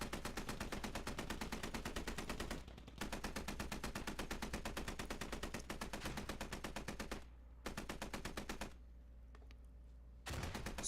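Rapid automatic gunfire in a competitive team video game match, with long sustained bursts of evenly spaced shots broken by short pauses and one longer silent gap before a final burst.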